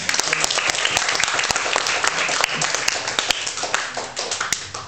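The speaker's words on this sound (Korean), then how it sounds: "할렐루야, 박수 한번 하겠습니다." A church congregation claps together during a Korean Sunday worship service, with dense, steady applause and crisp individual claps that stay loud and close for the full five seconds.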